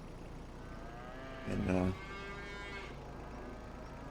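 Beef cattle in Farming Simulator 25 give one clear drawn-out moo in the middle, moderately near, over a quiet ambient background, with a faint word spoken nearby.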